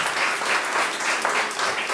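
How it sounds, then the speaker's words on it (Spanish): A church congregation applauds during a sermon, a full room of steady clapping with gentle swells, close and continuous throughout. "Den un aplauso al Señor, hermano."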